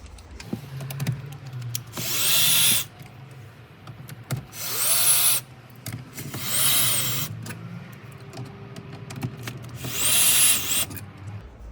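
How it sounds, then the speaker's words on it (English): A power drill whirs in four separate bursts, each lasting about a second, as bolts are taken out of the dash of a Toyota Land Cruiser 200 series. Quieter handling noise fills the gaps between bursts, and no one talks. "And then we can start removing these 4 bolts."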